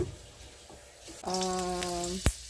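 A small amount of cooking oil sizzles in a pan as ginataang kalabasa with crab is started. A soft hiss builds and then holds steady, a bright tone sounds over it, and a short clatter comes near the end.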